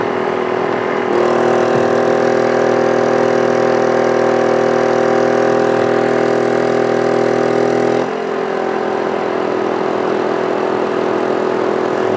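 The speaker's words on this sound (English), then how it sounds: "You can hear the compressor kicked off and the generator got quiet." An 800-watt portable generator drones steadily while powering an RV air conditioner, its engine note heavier under the compressor's load, then lightening and quieting when the compressor cycles off about eight seconds in.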